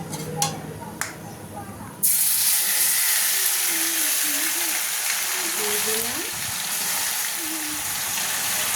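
A ginger, garlic, onion and green chili paste drops into hot spiced oil with a sudden loud hiss that continues as a steady sizzle, after a couple of light taps, while a voice speaks over it.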